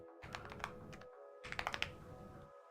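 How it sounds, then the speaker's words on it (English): Typing on a hand-lubed computer keyboard, two short bursts of soft, muted keystrokes separated by a pause, close and fairly quiet over a low steady background hum. "the keyboard is lubed up. It is lubed up."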